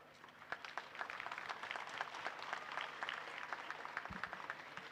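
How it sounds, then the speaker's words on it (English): Faint, thin applause from a graduation ceremony audience, with sparse distinct claps patting along unevenly at a distance and a brief low thump near the end. "Yes, he deserves a better clap."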